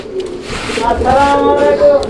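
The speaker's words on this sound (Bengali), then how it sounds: "আর জলিল ভাই দুইটা দুই রকমের কবুতর এখানে আছে" Soft, low cooing of fancy pigeons murmurs through the clip, close by, with a voice talking over it much of the time.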